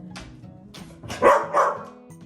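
A trained dog gives two or three sharp, close barks mixed with softer yips and whines, loud against quiet surroundings.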